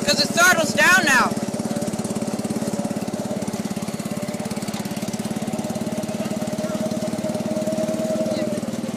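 A John Deere 210 lawn tractor engine runs steadily at a lowered throttle, a loud close pulsing drone that settles into an even idle after a short burst of higher noise at the start.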